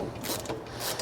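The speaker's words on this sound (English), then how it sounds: "let's tighten these two down here on the bottom first." Ratchet wrench tightening the bottom bolts that secure the feet of a dirt bike and ATV engine stand, a brief run of close, quick mechanical clicking.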